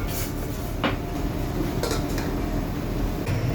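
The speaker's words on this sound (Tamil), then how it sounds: "மஞ்சள் தூள் எல்லாத்தையும் போட்டு மிக்ஸ் பண்ணி விட்டுட்டு மூடி விட போறேன்" Squid stirred with turmeric, salt and curry leaves in a cooking pot, with a few metallic clinks and scrapes of a utensil and a lid being set down, over a steady background hum; no talking.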